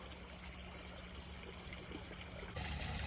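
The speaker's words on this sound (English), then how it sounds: "I just splashed more in the water, and he comes out." Water trickles and splashes faintly in a baby painted turtle's tank, a soft continuous dribble that grows slightly louder near the end.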